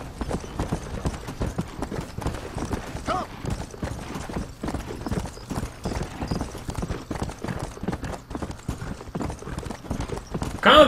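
Horse hooves clip-clop steadily in the Western game Red Dead Redemption, a brisk continuous trotting rhythm at moderate loudness that runs through the whole stretch, with a voice speaking occasionally over it.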